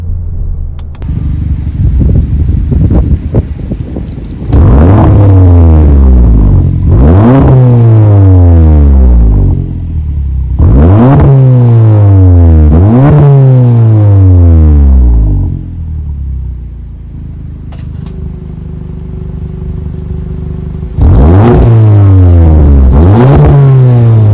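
Volkswagen Mk7 Golf R in race mode accelerating hard through repeated quick upshifts, each gear a loud rising rev followed by a sharp drop, with short quieter cruising gaps between pulls and another strong pull at the end.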